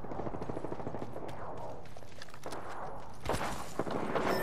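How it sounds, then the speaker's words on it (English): Gunfire in the Apex Legends video game, rapid automatic bursts and scattered shots crackling through a busy firefight, with a sharper, louder volley near the end; no talking. "I am taking fire"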